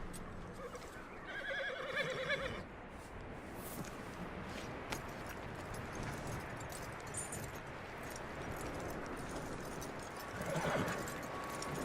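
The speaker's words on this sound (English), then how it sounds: "That looks like a decent horse." A horse whinnies loudly at the start in the video game Red Dead Redemption 2, then hooves clip-clop steadily over a constant rushing background, with another whinny near the end.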